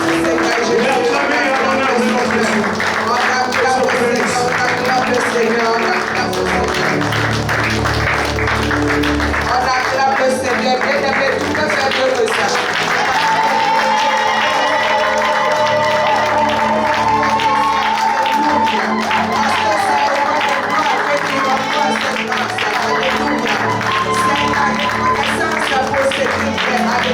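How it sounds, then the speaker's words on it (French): A church congregation claps and cheers continuously for almost half a minute, loud and close, the applause mixed with sustained music and voices throughout. "Et acclamez à l'honneur de notre Jésus."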